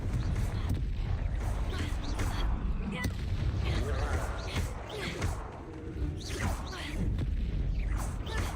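Confringo, the explosive fire spell in the game Hogwarts Legacy, cast over and over, giving repeated loud booming blasts and crackling impacts in dense combat, with a voice partly under the din.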